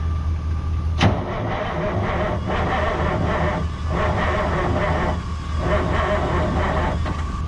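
An abandoned Kenworth W900A truck's engine cranks repeatedly on a restart attempt with a bank of batteries, a loud, rhythmic, labored churning with pulsing surges, close by, without any voices.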